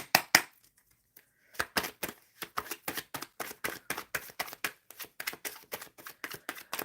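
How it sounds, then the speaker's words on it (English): Tarot cards being shuffled during a live card-pull reading, a steady run of crisp riffling flicks and slaps close to the mic after a brief pause, with no talking. "Shuffling for S12. Hold on."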